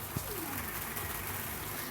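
A pigeon gives a low, soft, throaty coo against a noisy, hissing background.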